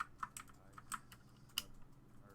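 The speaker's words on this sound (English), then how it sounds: "Hopefully that clicking is not too annoying with my keyboard." Clicking of a computer keyboard while playing Super Meat Boy: quick, irregular taps and clacks spread across the moment, fairly soft and close, with no voices.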